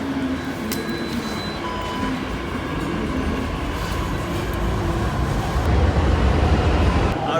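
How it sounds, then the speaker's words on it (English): Vande Bharat Express train pulling into a station platform, a steady broadband rumble of wheels and machinery that grows slightly louder toward the end, with faint station ambience and no voices. "Our train is here."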